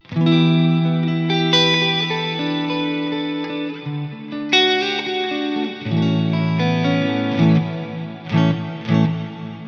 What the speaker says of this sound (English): So let's try it with my plate reverb.